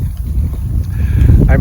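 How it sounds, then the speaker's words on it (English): Wind gusting over a river during a canoe survey near beaver lodges, a loud close rumbling buffet on the microphone with faint water sounds underneath, lasting throughout. "the wind is pushing me away"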